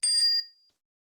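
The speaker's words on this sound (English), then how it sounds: "Ring a bell sound like this" A single bright bell chime from a mindfulness app rings once and fades out quickly, clean and electronic-sounding, with nothing else around it.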